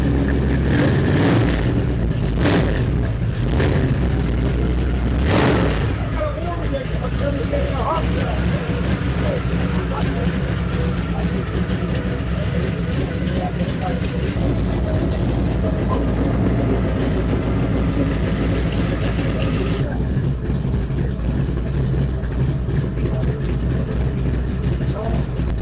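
A Ford car engine at an outdoor Ford show fires up and revs, a loud burst of several throttle blips early on settling into a steady idle, with crowd chatter and talk throughout.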